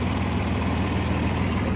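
A Massey Ferguson 2635 tractor engine runs steadily up close, a loud, continuous low rumble.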